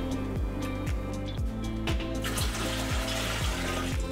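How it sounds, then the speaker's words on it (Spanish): Water poured into a tamale steamer pot fitted with a rack, a steady close splashing hiss under a regular clicking rhythm, with no voices. "Vamos a agregarle agua, que no alcanza a llegar hasta la rejilla."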